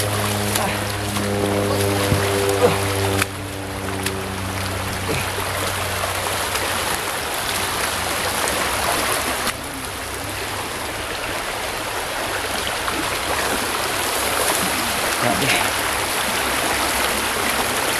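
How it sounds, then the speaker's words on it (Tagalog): Creek water flows and rushes steadily as people travel along a stream, a constant broad wash with a droning hum in the first few seconds. "Sapa ang aming binabaybay namin ngayon."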